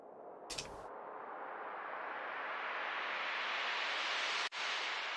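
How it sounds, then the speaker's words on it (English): A synthesized white noise riser, a wall of hiss that swells steadily louder and brighter as a filter sweeps upward, broken once by a brief dropout near the end. "So that just sounds like noise,"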